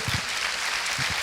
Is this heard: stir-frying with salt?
no